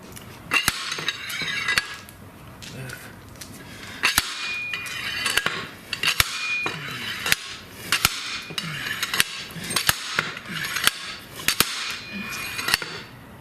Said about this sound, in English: When you're doing the slide hammer, you want to slowly rotate that flange all the way around as you're hitting it